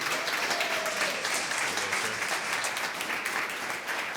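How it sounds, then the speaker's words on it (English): A live audience at an evening speaking event applauds a speaker taking the stage, steady dense clapping that fills the room for several seconds without a break. "let's be loud for Mr. Bradley Wells."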